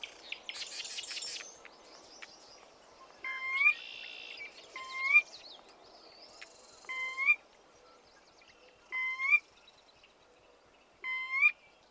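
A sora calls again and again close by in the marsh at Lake Helena, giving five clear rising whistles about two seconds apart over soft chirps from other birds and insects.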